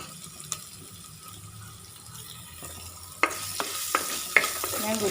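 Whole spices, garlic, crushed ginger and fennel seeds stirred in a hot pan for a jackfruit seed curry, with a faint background sizzle, then louder scraping strokes of the spoon setting in partway through.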